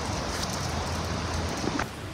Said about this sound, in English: It's been raining for like 2 hours or so, and it's still bone dry in there.